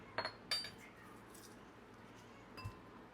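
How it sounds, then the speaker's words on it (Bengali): A utensil clinks against a bowl while crushed tree-ripened fruit is mixed with spices, giving a few sharp, sparse clinks close by amid quiet. "এখন হলো সব মিক্সড করার পালা"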